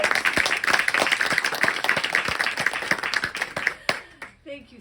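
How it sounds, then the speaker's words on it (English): Audience clapping steadily at a book talk event, a dense, close patter of many hands that tapers off near the end as a voice begins to speak. "one more applause"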